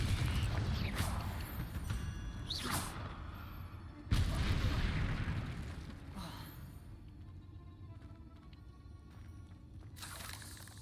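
Confringo blasting spells explode in a Harry Potter video game, with several heavy booms rolling out, the loudest partway through, then fading into a quieter rumble before another burst at the end.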